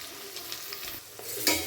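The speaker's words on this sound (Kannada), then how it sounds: "ಎಲ್ಲ ಜೊತೆಗೆ ಹಾಕ್ಕೊಂಡು ಫ್ರೈ ಮಾಡಿದ್ರೆ ಆಯಿತು." Chopped onion and curry leaves fry together in a pan for vegetable shavige uppittu, a soft steady sizzle with a few light stirring scrapes and a louder scrape near the end, close, no talking.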